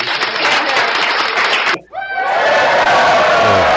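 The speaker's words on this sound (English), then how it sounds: "Play the applause" Loud applause and crowd cheering played as a sound effect on a podcast, with a sudden cut partway through before a fresh burst of clapping and whooping crowd noise resumes and carries on.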